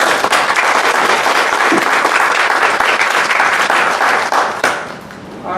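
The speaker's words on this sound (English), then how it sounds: "let's give them a round of applause." An audience at a Republican candidates forum applauds steadily for several seconds, a dense wash of clapping that fades off near the end.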